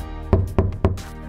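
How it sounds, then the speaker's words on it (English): Three sharp knocks on a door land in an even rhythm, each one close and distinct over a low steady background hum. "The faint sound of knocking broke the silence, pulling him from his thoughts."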